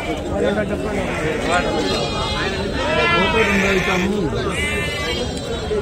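Sheep and rams bleating at the Angallu Saturday sheep market, wavering calls rising over a dense crowd of voices and chatter, with several bleats clustered near the middle and end.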